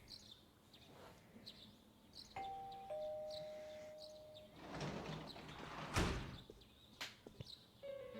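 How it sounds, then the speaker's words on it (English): A doorbell chimes inside the video game Persona 4 Golden, its clear sustained ding-dong tones standing out over soft ambient game music, with no talking. "You hear the doorbell ringing."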